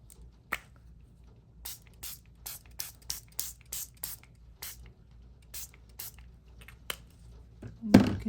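Color spray spritzed onto mixed-media collage paper, a series of about fifteen short, sharp hissing pumps in an uneven rhythm, close and clear, followed by a brief rustle at the end.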